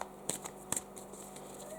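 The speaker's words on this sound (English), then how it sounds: "So as you can see, I'm shuffling here." Tarot cards shuffled by hand in a few brief crisp riffles and flicks, close and fairly quiet, with a steady low hum underneath.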